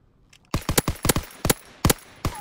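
Gunshots from the Call of Duty: WW2 video game during a Search and Destroy match, a rapid string of seven or eight sharp, loud cracks in irregular bursts over quiet background.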